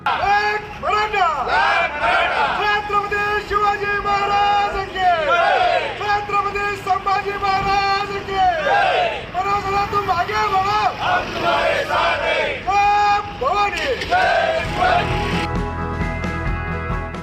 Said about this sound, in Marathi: मराठा समाज बांधवांनी एक मराठा लाख मराठा छत्रपती शिवाजी महाराज की जय अशी घोषणाबाजी केली आणि जल्लोष साजरा केला